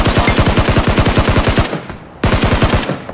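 Automatic gunfire in the battle royale game Peacekeeper Elite on a desert island map: a loud, rapid burst of evenly spaced shots for about a second and a half, a short pause, then another sustained burst.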